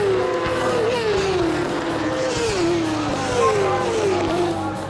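AMA Superbike racing motorcycles at Mid-Ohio, including a Honda and an Italian-made Ducati, scream past with high-revving engine whine that repeatedly climbs and drops through gear shifts, loud and continuous over a rumbling background.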